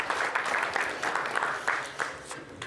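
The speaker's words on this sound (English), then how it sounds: "So give a roaring applause despite your coffee cups." Audience applause at a demo day, a steady dense clapping from a crowd filling the room for nearly three seconds with no voices on top.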